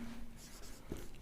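Pen or marker writing a physics definition during a lesson, faint scratchy strokes in short bursts against a quiet room hum.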